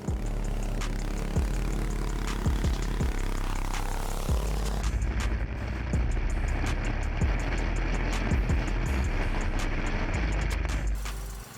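A small engine on a homemade tracked mini ATV runs continuously, a close, steady droning hum with rattling clicks and a slight shift in tone midway, no talking.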